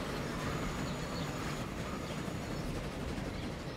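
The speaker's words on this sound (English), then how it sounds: "Yes, we're pulling into here. So it's the little local train." A small local train pulling into a station in Transport Fever gives a steady, dense rumble of rolling wheels and machinery, constant in level throughout.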